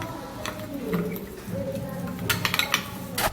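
A spoon clinks and scrapes against a bowl as powdered milk is stirred into a thickening skin mask mixture, giving quick irregular taps and scrapes close by, under someone talking.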